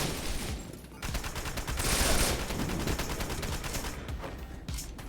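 Sustained bursts of gunfire as teammates unload into an enemy in the action game Wanted: Dead, with dense overlapping shots and rattling automatic fire, loud and continuous for several seconds without speech.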